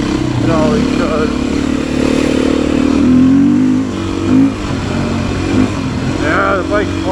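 A Beta 500 RS motorcycle engine drones and revs steadily throughout a trail ride, loud and continuous with rising and falling pitch, under a rider's talk.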